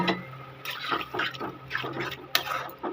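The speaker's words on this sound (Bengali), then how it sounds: "এবার আমি একটু জল দিয়ে দেবো" Water is poured into a pan of frying small-fish curry, kachali fish, giving bursts of splashing and hissing sizzle in uneven pulses, fairly close, with no one talking.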